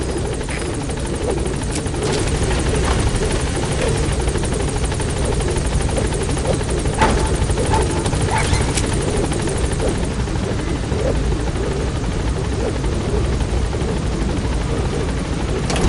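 A helicopter in Metal Gear Solid V lifts off, its steady rotor drone filling the whole stretch at a constant loud level with no talk over it.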